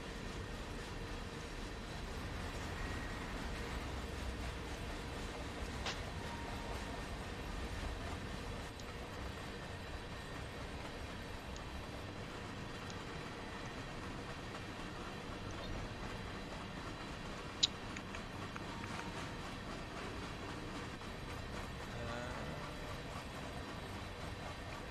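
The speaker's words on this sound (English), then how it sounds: "Let me turn this up so you can hear the sounds. Hear the beautiful train sounds." A train running in the video game Train Simulator 2020, giving a continuous, even rumble and rolling wheel noise with a few faint clicks and no talking.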